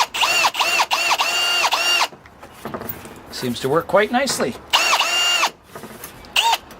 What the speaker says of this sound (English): I've got a countersink in the drill, so I'm going to see if that works